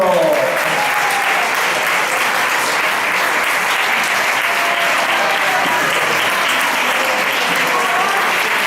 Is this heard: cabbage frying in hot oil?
no